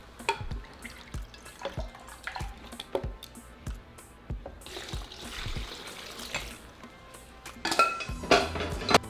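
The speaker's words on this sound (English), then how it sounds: "I'm going to transfer my chili pods along with 2 cups of water that we boiled our chiles in" Softened chili pods and boiled water go into a blender, giving a series of close wet splashes, drips and soft thuds with a brief louder pour and clatter near the end.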